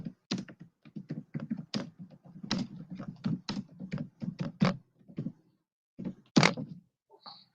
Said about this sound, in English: My keyboard is making a lot of noise.